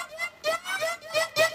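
A Serum synth layer for an electronic dance drop rings out alone in several short, bright pulses with a steady tone underneath, moderately loud.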